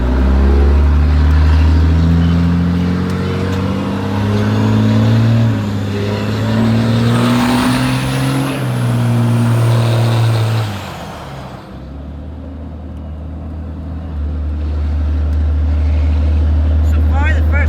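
A Cummins diesel engine fitted with big injectors runs loud and close, holding a rough steady drone that wavers in pitch, dips briefly, then settles back into its idle rumble.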